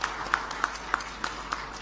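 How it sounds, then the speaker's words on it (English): Audience at a Kigali technology conference applauding a panel member, a few sparse, evenly spaced claps, fairly faint and brief. "Round of applause, please."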